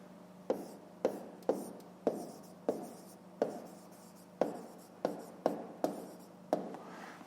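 Handwriting on paper while working a fifth-grade math exercise, a quiet regular series of pen strokes and taps, about a dozen, close and clear with faint room hum.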